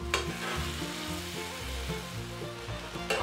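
Fried prawns sizzle steadily in a pan with garam masala and turmeric while being stirred, a loud continuous frying hiss close up with no talking.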